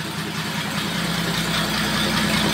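A 1941 Chevrolet rat rod with a 232 engine idles steadily up close, a continuous low rumble that holds an even, unbroken tone with no voices over it.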